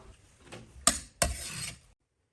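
A knife chops lightly smashed scallions into long pieces on a board in a home kitchen: two sharp, close cuts with a scraping rasp after each, then silence.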